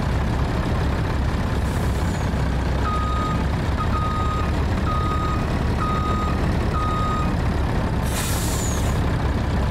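Freightliner truck in Farming Simulator 2019 idling loudly while a steady string of reversing beeps sounds at even intervals, framed by sharp air-brake hisses near the start and end.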